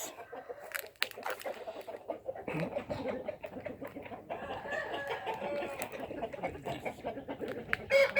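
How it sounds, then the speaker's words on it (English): A rooster in an outdoor yard clucks and murmurs softly near the camera, a run of low irregular clucks over faint background noise with a sharper call near the end. "There's another rooster right here."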